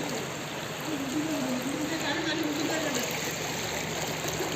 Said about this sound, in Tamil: ஸோ இது ஃபுல்லாகவே தண்ணி தான்.